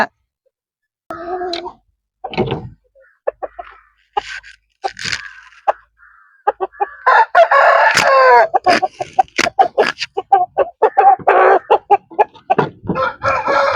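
A rooster crows loudly and close, with a few short calls and clucks at first, then a drawn-out crow and more ragged calling.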